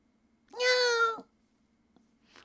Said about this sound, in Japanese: にゃーん、猫か。